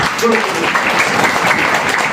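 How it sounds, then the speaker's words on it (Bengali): Audience applause at a talk on stem cell nutrition therapy: steady, dense clapping from a crowd fills the whole stretch at an even, fairly loud level, with a faint voice showing through near the start. "জোরে একটা হাততালি চাই"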